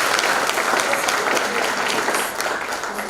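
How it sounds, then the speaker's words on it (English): An audience at a university professorial inauguration claps in a dense, loud ovation that fills the room and eases slightly toward the end. "we request that we applaud you for that"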